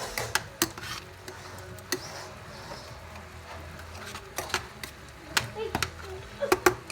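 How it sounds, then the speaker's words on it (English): Pasta is stirred in a pot while a creamy mussel sauce cooks, with repeated sharp clicks and knocks of the utensil against the pot over a steady background, and a voice talking throughout. "Give my pasta a stir."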